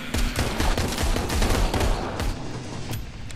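Rapid bursts of gunfire in the VR zombie game Arizona Sunshine, loud sharp shots firing in quick succession, densest in the first two seconds, then thinning out.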